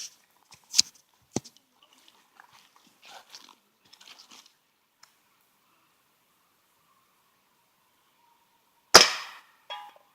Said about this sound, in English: So let's shoot that WD-40 can.